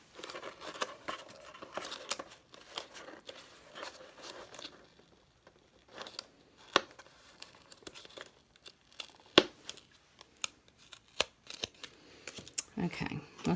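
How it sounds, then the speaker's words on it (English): Paper being peeled up from a gift box, with close crinkling and tearing rustles in short bursts while a person talks over it. "I'm just peeling this up because I want my ribbon to go under"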